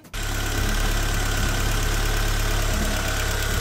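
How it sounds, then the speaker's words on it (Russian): A 2.0-litre ABT engine in an Audi 80 B4 fires up after a timing belt replacement and settles straight into a steady, even idle, close and loud, with a low drone throughout. "Вот двигатель завелся, все нормально работает."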